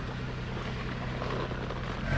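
An engine runs during a salt-water flood test in the Sea of Cortez, a steady low droning rumble that holds evenly throughout with no voices.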